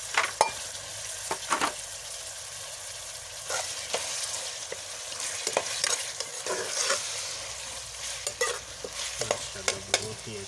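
Tomatoes tossed into a frying pan with browned onions for a bhindi masala, a bright sizzle with repeated spatula scrapes and knocks, nearby and without talk.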